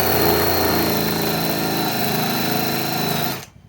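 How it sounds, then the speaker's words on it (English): A Harbor Freight Hercules compact cordless tool, the Gen 2 model HCB84B2, runs steadily at a loud, constant high pitch for over three seconds, then stops abruptly. "let's just try the drill here"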